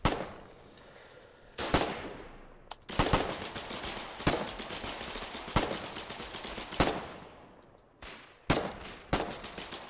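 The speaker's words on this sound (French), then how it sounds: "il y a une espèce de mitrailleuse en batterie" Machine gun emplacement firing in a video game, several sharp bursts spaced a second or two apart, each loud and close with a decaying tail, separated by quieter ambient battle noise.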